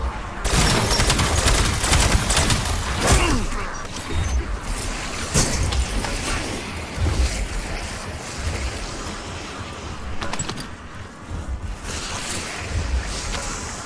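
Video game gunfire in a zombies shooter: dense, rapid automatic bursts that run continuously at high volume, with no talk over them.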